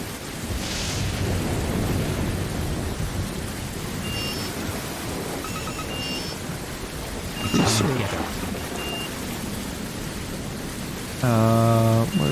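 Thunderstorm in the video game Jurassic Park Operation Genesis, with steady rain hiss and a rumble of thunder under occasional game effects and someone talking.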